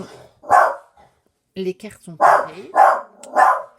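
A dog barks about four times in short, spaced bursts from a short distance, with a brief human voice between the barks.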